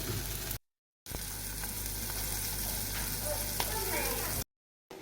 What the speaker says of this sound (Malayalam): അപ്പം ഇനി ഉണക്കലും കൂടി പൊരിച്ചെടുക്കട്ടെ